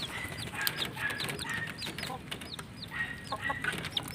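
A brooding hen clucks steadily with her three young chicks peeping in high chirps, close by, with a faint outdoor background.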